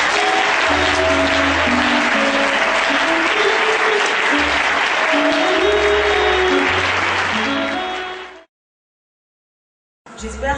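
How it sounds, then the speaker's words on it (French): Loud, sustained applause from a church congregation acclaiming Jesus Christ, with music playing underneath; it fades out and cuts to silence before a brief return of sound. "Acclamons très fort Jésus-Christ."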